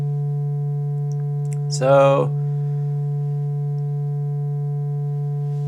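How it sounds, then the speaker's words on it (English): A Doepfer A-110-4 quadrature thru-zero VCO producing a near-sine tone, a steady low hum with a few faint overtones that holds throughout, interrupted once by a brief spoken word. "it's not a pure sine wave, but it's close."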